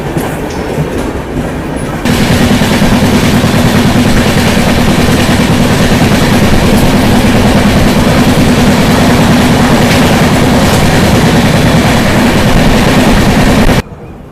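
A passenger train near Samastipur Junction runs loud and steady on the rails, with a continuous rumble and rattling wheel noise throughout that cuts off sharply at the end.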